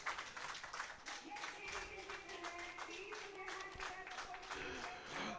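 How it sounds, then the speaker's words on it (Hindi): Spectators clap at a 10m air rifle mixed team bronze medal final at a youth games shooting range, light, quiet applause running under a commentator's continuous speech. "इसी के साथ तालियों की गड़गड़ाहट"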